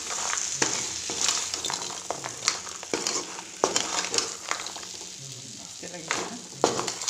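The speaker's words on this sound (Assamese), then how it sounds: "এতিয়া কেঁকুৰাখিনিৰ লগত অকণমান ভাজি দিওঁ" Crab frying with sour leaves in a pan, loud sizzling throughout with scraping stirs of a spoon at irregular intervals, close up and without talk.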